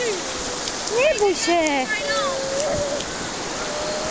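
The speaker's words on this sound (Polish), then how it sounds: "Zobacz, jakie tu morze nakręcone." Rough sea waves wash steadily onto a beach in a continuous hiss of surf. A child squeals and an adult speaks encouragingly over the water.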